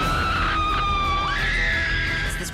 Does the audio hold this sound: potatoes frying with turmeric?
no